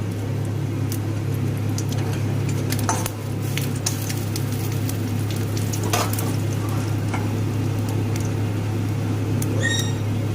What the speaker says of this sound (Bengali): পাঁচফোড়ন ভাজা হয়ে গিয়েছে